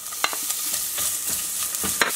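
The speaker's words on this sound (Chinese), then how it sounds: "我们来煎胡萝卜，放一点油" Carrot strips fry in a little oil in a pan, giving a steady close sizzle with scraping stirs throughout and no speech.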